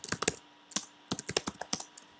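Fingers typing on a computer keyboard, crisp close clicks in quick irregular bursts separated by short pauses, with no talking.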